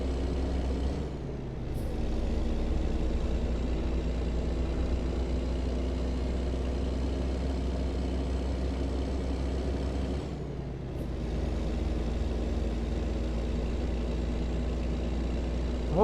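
A semi truck cruises on a Nevada highway, its engine a steady loud drone with road rumble that dips briefly twice, and there is no talk over it.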